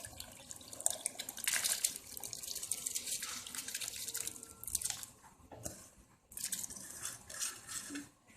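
Water runs from a tap into a pot of rice being prepared for chicken biryani, a steady close splashing flow with brief clinks of metal cookware between pours.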